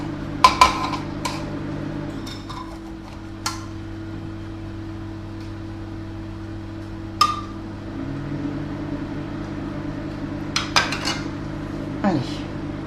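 Blueberry cake batter with lemon is stirred in a bowl, giving scattered clinks and scrapes of a utensil against the bowl over a steady low mechanical hum.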